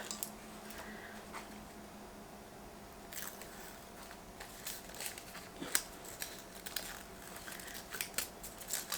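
Paper backing is peeled off FuseWeb fusible adhesive on fabric edges, giving faint, close crackly tearing and rustling with small scattered peaks and no talk.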